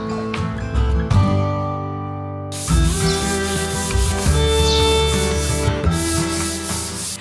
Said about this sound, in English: when combined with this task of rounding over the edges of the beams